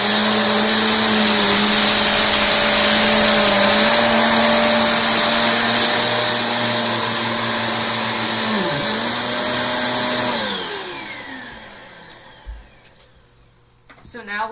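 A Eureka upright vacuum cleaner set to medium with its brushes spinning, running loudly and steadily with a high motor whine, the pitch dipping briefly before the motor spins down and fades out near the end.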